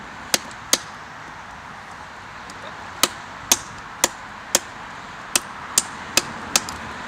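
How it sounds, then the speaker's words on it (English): An AA Kephart knife chops against a backer, striking about ten sharp, close blows in irregular clusters with short pauses between them, over faint background hiss and no talking. "The AA Kepahrt definitely has more weight behind it. It's definitely going to help out with the little chopping tasks."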